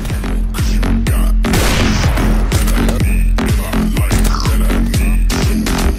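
Gunfire from the PUBG battle royale video game plays as a montage, with repeated sharp booming shots in a steady rhythm over a loud, dense game mix and edited effects, close and continuous.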